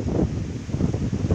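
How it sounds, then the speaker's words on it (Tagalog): Wind on a mountain top at Mount Parawagan before rain, buffeting the microphone in loud, uneven low gusts that rise and fall across the moment, with no voices. "Okay dito, mahangin"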